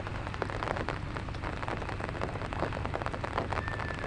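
Steady rain falls on a rice field, a dense, even patter of drops hitting plants and wet ground nearby, with no voices.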